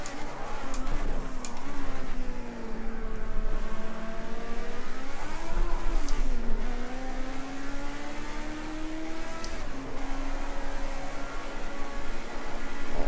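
A Porsche race car engine in Project Cars 2 at Watkins Glen screams steadily at high revs down the straight, its pitch climbing and dipping through gear changes, loud and continuous with no talking.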